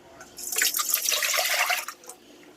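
Water pours in a steady splashing stream into a pot for about a second and a half, then trickles off with a few final drips.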